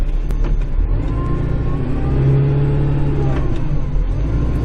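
A snowblower engine runs steadily and loudly close by, a continuous mid-pitched drone with slight shifts in revs during a snow storm.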